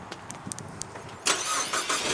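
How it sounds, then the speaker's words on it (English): A few faint clicks, then a Ford car engine cranks by remote start and catches, settling into a steady idle close by. "remote start"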